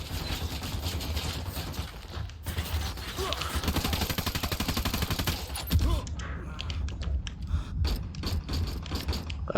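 Dense, sustained gunfire fills the action video game Ghost Recon Wildlands, with rapid overlapping shots and mechanical clatter continuing throughout and thinning into sharper separate bursts toward the end.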